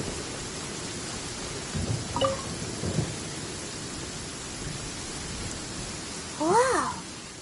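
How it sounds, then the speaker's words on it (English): A steady rain-and-thunder storm in the video game Genshin Impact, set in the region of Liyue, fills the scene with a constant wash of downpour, broken by a few faint rumbles and a short chirpy effect near the end. "Thunder and lightning can be quite frightening"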